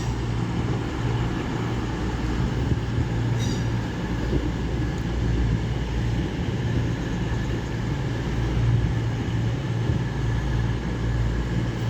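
A Class 221 train works through Doncaster station on the East Coast Main Line with a steady, loud rumble of engines and wheels, a continuous low drone throughout.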